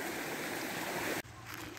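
A fast-running stream swollen after heavy overnight rain gives a steady, loud broadband rush of water, close by, with no voices, then drops abruptly to a softer, more distant flow.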